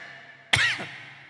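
A man gives one short, harsh forced cough, imitating a smoker with damaged lungs; it is close and clear against quiet surroundings.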